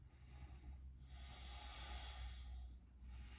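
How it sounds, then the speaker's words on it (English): A long, slow, deep breath runs through a yoga twist during a power class, one drawn-out airy inhale or exhale swelling in the middle. It is close but very quiet over a low hum. "start to breathe even bigger, even deeper"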